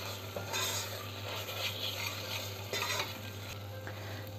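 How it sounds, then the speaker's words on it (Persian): Tomato paste and turmeric sautéing in a pan, a steady close sizzle with spoon stirring and scraping against the pan throughout, no voices. "اونم حسابی تفتش میدم تا رنگ ربم باز بشه"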